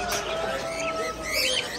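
Young goldfinches chirp in a busy exotic animal market, with a dense, constant twittering of many small birds close by and a faint tonal hum underneath.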